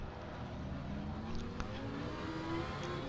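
GT3 race car engines in the Assetto Corsa Competizione video game at Monza, a faint steady engine drone with a slight rising pitch, no voices.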